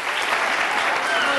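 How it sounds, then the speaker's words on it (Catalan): Applause from a small audience at a Catalan spelling contest, a steady dense wash of clapping running for the full short stretch at even loudness. "Un aplaudiment."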